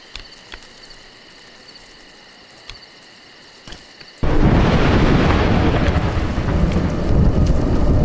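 A sudden loud crack of thunder breaks into a heavy, sustained rumble in the video game A Juggler's Tale, following a quiet stretch of faint ambient tones and scattered soft taps.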